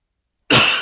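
A single sharp, close cough bursts out after a moment of silence.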